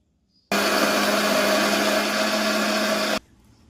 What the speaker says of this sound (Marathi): नंतर लसूण टाकायचा आणि त्याला छान ग्राइंड करून घ्यायचं